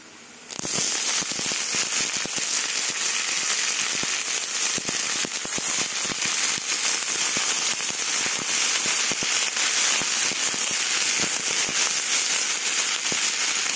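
Red amaranth greens are tipped into hot oil with garlic and onion, setting off a sudden loud burst of crackling sizzle that keeps going densely and evenly, with sharp spitting pops, close by.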